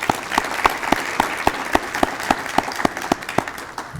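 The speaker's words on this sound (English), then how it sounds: "let's give a big round of applause again to the chef and servers of Northview Golf and Country Club" Audience at a prize ceremony dinner at Northview Golf and Country Club applauding the chef and servers: a crowd's clapping with strong, evenly spaced rhythmic claps standing out in a steady beat.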